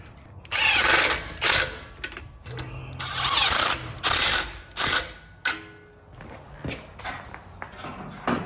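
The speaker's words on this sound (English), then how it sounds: "we're going to grab our 13mm socket and reinstall the brake line bracket onto the upper control arm" A 13mm socket ratchet tightens a brake line bracket on the upper control arm mount of a Jeep Wrangler JL during a lift kit install, giving close, loud bursts of rapid ratcheting clicks separated by short pauses.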